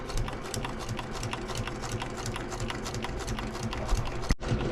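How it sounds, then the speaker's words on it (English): Sewing machine stitching fabric for greenhouse sandbags, a fast continuous mechanical clatter of the needle running steadily at close range, with a brief stop near the end. "That should lock the stitch. I just want to go along this edge right here."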